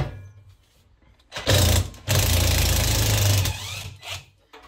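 Impact wrench driving a rear brake disc screw on a Yamaha Fazer 600 motorcycle: two loud bursts of rapid hammering, a short one then a longer one of about a second and a half, with quiet workshop sound between.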